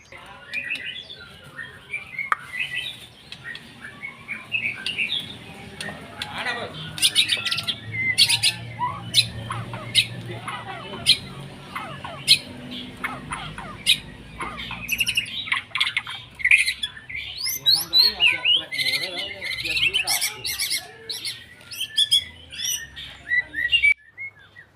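A white-rumped shama, a high-energy fighter-type bird, sings in a varied, busy stream of loud whistles, chirps and squawks that runs close by throughout, with faint background noise underneath.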